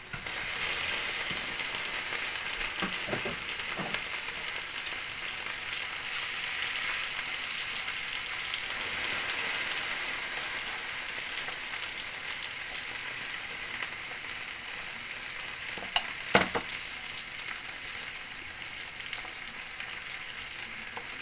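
Boiled potatoes frying in a pan beside beef steak give a steady, even sizzle throughout, with a couple of faint clinks near the start and later.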